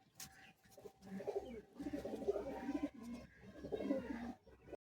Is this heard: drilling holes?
no